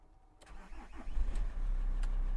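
A Volkswagen T4 van engine cranks briefly and catches, then settles into a steady low rumbling idle, close by with no talking.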